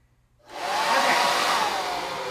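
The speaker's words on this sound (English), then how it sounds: "I'm using my hair dryer." Hair dryer blowing steadily to dry chalk paste on a jack-o'-lantern decor piece, switching on after a brief quiet start and holding a loud, even, close-up rush of air.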